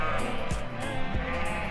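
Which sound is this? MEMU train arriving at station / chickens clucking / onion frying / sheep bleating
sheep bleating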